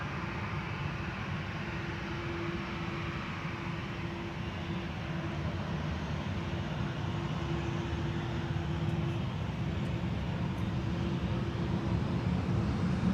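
A Transavia airliner departs Amsterdam Schiphol Airport with a steady, even jet roar, heard from a distance and holding level throughout with no other sounds standing out.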